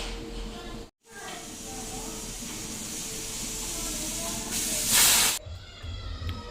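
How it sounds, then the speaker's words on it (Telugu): A pressure cooker cooking spinach dal lets out a continuous hiss of steam that swells into a louder, brighter burst near the end before cutting off. "ఇప్పుడు విజిల్ తీసి ఒకసారి చూద్దాం."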